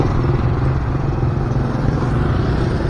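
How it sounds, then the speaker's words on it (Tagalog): Dense roadside traffic with many motorcycles passing on a weekday road, a loud, constant engine roar and drone from close by with no breaks, no voices. "ang daming motor"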